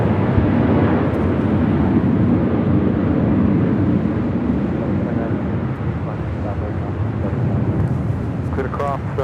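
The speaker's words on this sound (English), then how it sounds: "Virgin Atlantic Flight 8 will be heading back to London in the 787-9 Dreamliner" A Virgin Atlantic Boeing 787-9 Dreamliner departs LAX for London, producing a loud, continuous low engine roar with buffeting wind noise; faint chirping or voices appear near the end.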